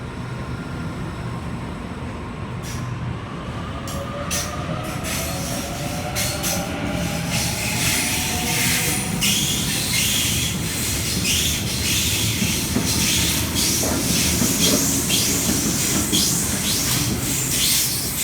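A Sydney suburban train pulls into a platform at Parramatta station, wheels squealing and rails clattering loudly as the carriages roll in and slow, with no talk.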